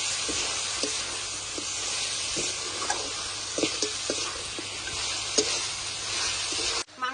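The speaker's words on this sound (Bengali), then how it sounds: "এবার ভালো করে মশলাটা কষিয়ে নেবো" Ground spices, including red chilli powder, cumin and coriander powder, sizzle steadily in a pan as they are stirred, with a continuous close hiss broken by light scraping taps.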